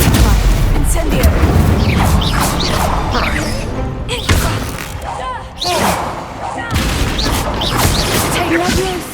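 Spell-casting combat effects from the video game Hogwarts Legacy, with booms, whooshes and crashing impacts in a loud, continuous barrage, while a voice shouts incantations over the din.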